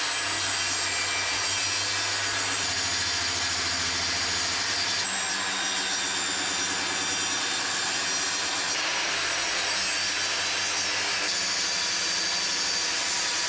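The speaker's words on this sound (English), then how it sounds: "I've just bolted my power saw onto the bottom of this bit of 12mm ply or 18mm ply" A power saw bolted under a sheet of 12 or 18 mm plywood cuts through wood with a sustained, loud whining rasp. The pitch shifts slightly as the cut progresses.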